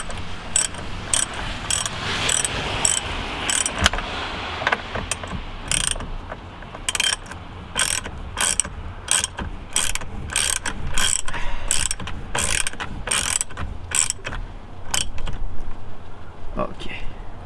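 A ratchet tightens the steering wheel bolt on a 2006 Volvo XC70 during an S60R wheel install, producing rapid, close clicking bursts in a repeated stroke rhythm, with a person speaking now and then.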